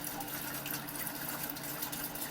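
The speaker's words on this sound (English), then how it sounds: "So you can see the steam coming out of the faucet here" Hot water runs steadily from a faucet in a Sprinter van build, a continuous close hiss of flowing water with no talk over it.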